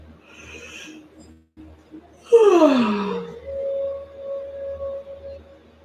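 A big yawn during a relaxing stretch routine, a long breathy sweep that drops in pitch and then trails into a sustained voiced tone, heard close and alone over a quiet background.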